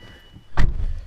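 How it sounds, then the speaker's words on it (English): A car door on a Subaru STI swings shut with a single solid thud, a short, close slam followed by a brief low rumble. "let me shut the door."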